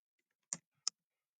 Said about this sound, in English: I'm really bad at typing today.